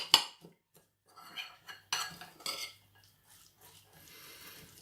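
Red cabbage coleslaw being tossed with a light dressing in a bowl, heard as a series of intermittent scraping and clinking strokes of a utensil, close and fairly quiet, with brief pauses between them.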